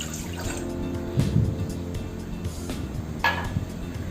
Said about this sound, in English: I'm pouring this half glass of water.